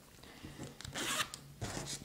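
A zipper on a handmade fabric Bible bag with built-in pockets is pulled open in a few short rasping bursts, close and fairly quiet, with no one speaking over it.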